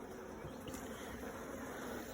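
Honey bees buzzing around an open hive, a soft continuous hum with a faint steady drone and no voices.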